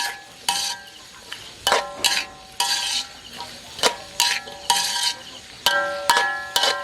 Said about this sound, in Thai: พอน้ำมันเริ่มเดือดก็ใส่หอมใหญ่ลงไปเลยค่ะ